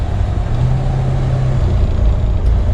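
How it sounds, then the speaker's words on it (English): The engine of a 1964 Ford Galaxie 500 on kick-down acceleration, a loud, steady low rumble with road and cabin noise, heard from inside the car. "Kick down works good. You can hear the engine."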